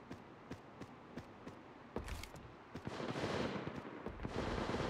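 Rapid automatic gunfire from the video game Apex Legends Mobile, with close, sharp bursts repeating at a steady clip, then denser sustained firing with heavy rumble in the second half.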